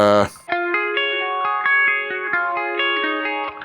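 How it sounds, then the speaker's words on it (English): An electric guitar plays a bright, sustained melodic line through a swirling phaser effect from a Line 6 Helix, notes changing steadily, loud and close, with no talking. "So a phaser is pretty good for that."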